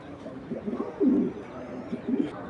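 Big-sized racing pigeons coo in low, soft rolling bursts, several throaty calls close by against a quiet background.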